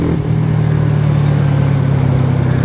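Kawasaki Z125 Pro motorcycle fitted with an O2 eliminator, held at wide open throttle in fourth gear around 30 mph with a rider aboard, a loud, steady, close single-cylinder engine drone with little change in pitch.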